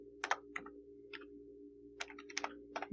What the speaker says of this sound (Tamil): gmail.comனு டைப் பண்ணிக்கிறேன்.